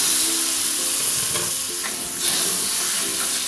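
Water poured into frying spice paste for semur jengkol makes a loud, dense, continuous sizzle and hiss close up, with stirring throughout and no talking.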